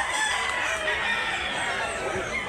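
A rooster crows and clucks at a busy fowl market in Mantalungon, Barili, Cebu, loud and close against a crowded background hubbub.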